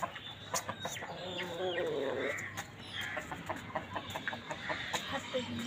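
A rooster crows once, followed by scattered clucking and other fowl calls nearby, with faint voices in the background.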